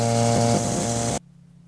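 Steady loud droning buzz of an ELA gyrocopter engine in flight, with a harmonic whine held close and constant, then abruptly cutting to a much quieter low hum at the end.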